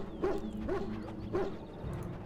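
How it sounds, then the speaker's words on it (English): A dog in the fantasy game Dragon Age gives three short, moderately loud barks at an uneven pace, with quiet background sound in between. "we gotta be nice to this doggy. We're meeting the dog."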